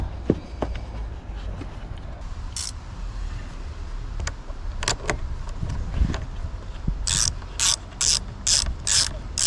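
A hand ratchet tightens the positive battery terminal on an Audi A3, giving scattered single clicks and then a quick run of about six sharp, evenly spaced ratcheting bursts, close and clear with no speech.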